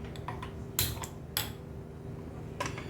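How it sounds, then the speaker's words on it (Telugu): Gas stove being lit in a home kitchen: a few sharp, separate igniter clicks, close and crisp, spaced over a couple of seconds against a quiet background. "స్టవ్ వెలిగిస్తున్నాను."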